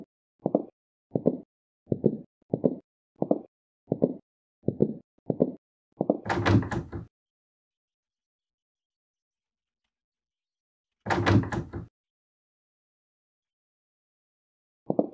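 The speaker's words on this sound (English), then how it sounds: "Use the crowbar to open it." Crowbar prying a door open in a video game: a steady series of about nine short, evenly spaced knocks, then a loud grinding crash as the door gives, and another heavy burst a few seconds later.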